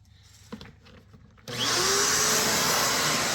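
A vacuum cleaner switches on after a few soft clunks, its loud whooshing roar holding steady and close until the end, cleaning a car interior during auto detailing.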